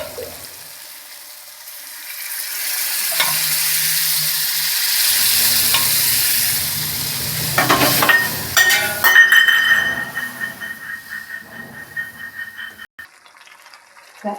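Boiled dal is tipped into cooked masala in a pan, a loud hissing sizzle swelling and settling before wet sloshing and rapid clattering strokes of a spoon stirring the mixture.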